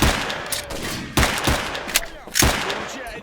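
Gunshots in S.T.A.L.K.E.R. Shadow of Chernobyl: several sharp, loud reports at irregular intervals, some in quick pairs, each ringing out over a steady background ambience.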